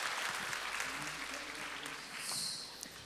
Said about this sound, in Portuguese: As palmas podem ser mais, né? Para o Senhor Jesus.